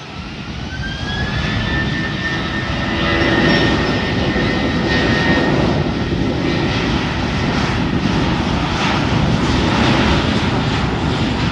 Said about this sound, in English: 737 MAX 9 now landing at runway 10 at the South Complex.